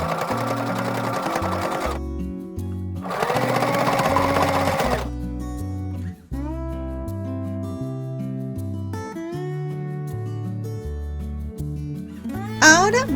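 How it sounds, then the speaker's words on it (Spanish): A sewing machine stitches the folded-over top edge of a fabric tote bag, its motor humming in stepped tones with two bursts of fast rattling needle action, then steady hum and pauses, close and clear. "luego doblamos hacia adentro y cosemos con la tela doblada"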